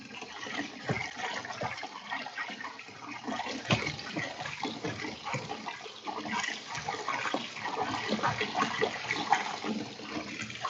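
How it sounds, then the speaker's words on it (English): Ramen noodles are rinsed under running water in a strainer, a steady rushing splash with gurgling, close and fairly quiet, without talk. "into the strainer, and I'm going to wash noodles."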